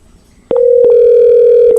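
A steady telephone dial tone on a desk or IP phone while an extension is being dialed, starting abruptly after a quiet moment and holding loud and continuous, with brief clicks at its start and end.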